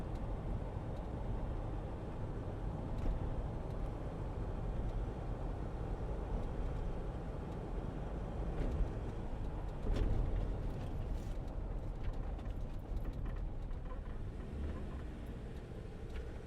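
A 2014 Land Rover Defender 90 2.2 TDCi XS hard top 4WD is driven along, giving a steady, loud engine and road drone with no clearly separate gear-change breaks.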